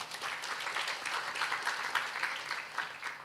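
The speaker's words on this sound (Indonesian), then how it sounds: "Tepuk tangan bagi Tuhan, saudara." A church congregation claps together during a sermon, a steady, dense patter of many hands that holds at an even level for a few seconds with no voice over it.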